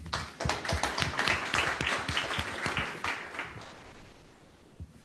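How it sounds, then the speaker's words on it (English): An audience at a bio product panel event at Benchling headquarters bursts into applause, a dense burst of clapping that swells and then fades out over several seconds. "Round of applause."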